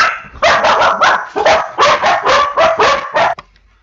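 Several dogs bark loudly and close after a knock at the door, a rapid burst of about a dozen sharp barks and yips in an irregular rhythm before stopping abruptly.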